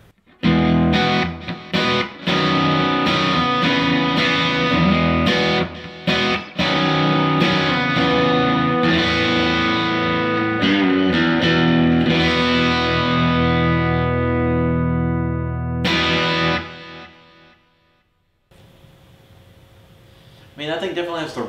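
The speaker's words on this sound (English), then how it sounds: "that thing definitely has the rumble of a guitar cabinet." Distorted electric guitar played through an FRFR cabinet rings out loud and close, with strummed chords and sustained notes carrying a heavy low rumble, then fading to near quiet before a brief burst of playing.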